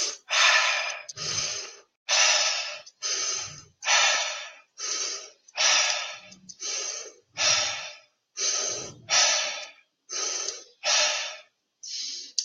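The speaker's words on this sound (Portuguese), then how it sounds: "E existe a respiração holotrópica" Holotropic breathing through the mouth, demonstrated as a fast, loud, regular series of forceful breaths, about a dozen strong exhalations each followed by a short intake, with no talk.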